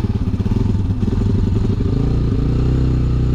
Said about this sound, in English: I'm starting the bike up. Yeah, getting her going.